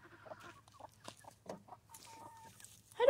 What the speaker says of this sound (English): She's the beautiful chicken.